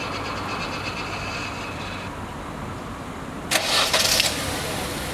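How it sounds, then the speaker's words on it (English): A car engine cranks and catches after a remote starter is triggered, a short loud burst of starter whir and ignition rising above steady background noise, then settling into a low idle. "The car started."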